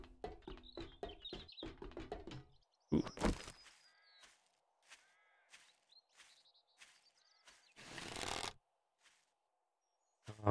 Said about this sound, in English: I saw a chicken go up here.